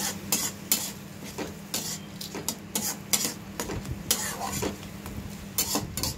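Half a cup of rice being stirred in a pot with water, repeated scraping strokes of a spoon against the metal pot over a low sizzle, close and rhythmic.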